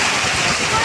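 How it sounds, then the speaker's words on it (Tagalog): A storm's heavy rain and strong wind make a loud, close, continuous roar of downpour with no break. "parang hindi mo makikita na sa sobrang lakas ng ulan"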